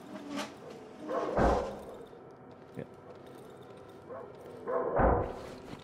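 Dog barking in the horror game Darkwood, two heavy bursts spaced a few seconds apart, fairly close and muffled over a dark low ambience with a faint knock between them.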